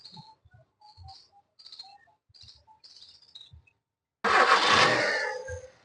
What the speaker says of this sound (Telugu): సింగిల్ సెల్ఫ్ అయితే బండి స్టార్ట్ అవుతుందండి.